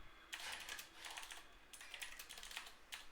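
Bursts of quick keystrokes on a computer keyboard as a prompt is typed, close and clear, in a few short runs with brief pauses between them and no talking.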